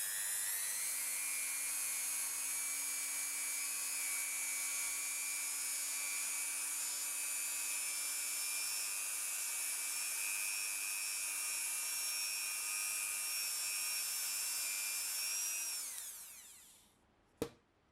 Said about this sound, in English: I'm going to be using a rotary tool with a little cotton buffing wheel on the end, and this makes a little bit of noise